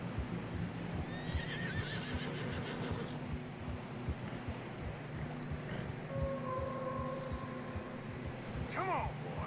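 Horses neigh and whinny in the video game Red Dead Redemption 2 as they struggle along a narrow path, with clip-clopping hooves and a sharp whinny near the end, under a steady background and a voice talking.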